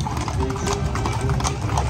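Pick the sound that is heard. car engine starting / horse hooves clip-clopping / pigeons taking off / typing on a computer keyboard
horse hooves clip-clopping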